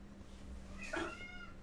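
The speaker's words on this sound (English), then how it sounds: "these cats are acting crazy" A cat gives one short, clear meow partway through, standing out over a faint steady background hum.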